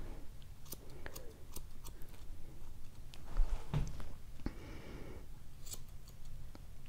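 Small scissors snip hair from a Havanese dog's paw pads, giving a series of faint, quick, sharp clicks spread through a quiet stretch.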